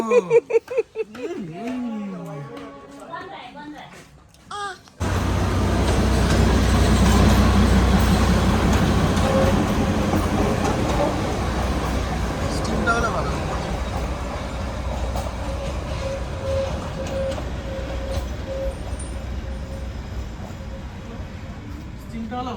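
A train runs along the railway near Darjeeling, a loud continuous rumble and rattle of wagons rolling close by for most of the clip, following a few seconds of other sound at the start.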